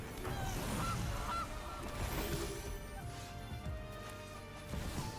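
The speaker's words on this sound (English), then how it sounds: "A goose!" Goose honks in a video game, a few short nasal honks up front among crashing impacts and game sound effects, fading into a sustained musical tone.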